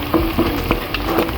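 Beaten egg and onion sizzle steadily in a hot pan while being stirred, with small scraping ticks over the continuous frying hiss.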